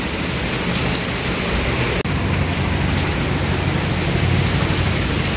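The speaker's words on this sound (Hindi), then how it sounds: "देखिए मूसलाधार वर्षा हो रही है," Heavy torrential rain pours steadily, a loud dense continuous hiss of downpour with no pauses and no voices over it.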